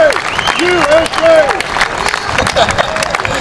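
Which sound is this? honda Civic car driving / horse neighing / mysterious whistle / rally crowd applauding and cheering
rally crowd applauding and cheering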